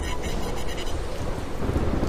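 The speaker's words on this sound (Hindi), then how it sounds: "गांव में तेज बारिश के कारण बाढ़ आ जाती है" Heavy rain with thunder rumbling over a village during a flood-causing downpour, a dense continuous roar with low booming underneath, loud and steady throughout.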